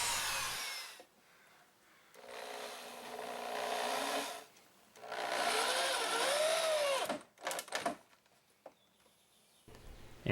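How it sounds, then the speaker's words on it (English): Several bursts of a power drill whine and spin up while pre-drilling and screwing in deck boards, separated by short quiet gaps, with brief clunks of work between them. "just pre-drill each of the holes before I go ahead and screw in the boards."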